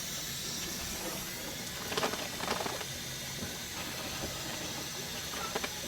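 A prototype 3D-printed air-driven water pump running in a deep pond with its air supply turned down, giving a steady broadband hiss and rush of air and water with a few brief louder bursts of bubbling.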